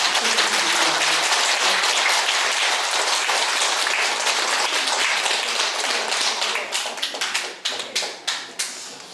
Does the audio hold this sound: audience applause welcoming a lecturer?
yes